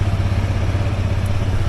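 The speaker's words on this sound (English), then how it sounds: "we'll just jump on the motorbike" A motorbike engine idles close by with a steady low rumble and faint mechanical clatter, running continuously on its own.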